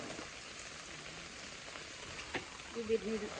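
Steady rain hiss fills the clip, a dense wash of drops on surfaces, with faint voices murmuring underneath and a few brief louder bumps near the end.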